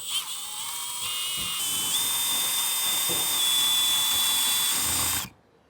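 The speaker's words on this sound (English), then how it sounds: "I'm actually going to be drilling in reverse just enough to make the outline of the bit here" A power drill running in reverse on an RV door to cut a shallow starting divot, a steady high whine that holds for about five seconds and then stops abruptly, close and alone.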